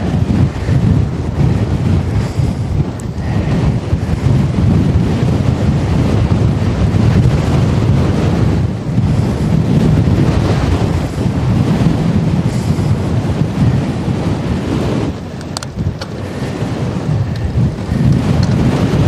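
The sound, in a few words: wind blowing near the ocean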